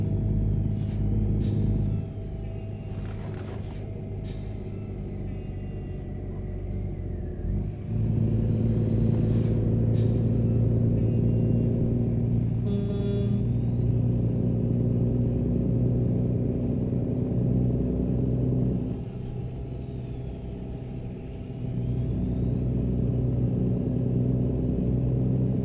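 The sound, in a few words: truck engine and gear change in video game American Truck Simulator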